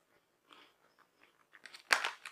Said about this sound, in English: They got a good crunch to them.